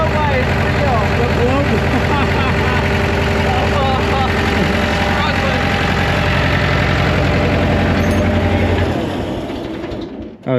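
A 10+ year-old Allis Chalmers 644 articulated forklift with heavy blow-by idles loudly and roughly up close while people talk over it. Near the end the engine is throttled all the way down and dies into quiet.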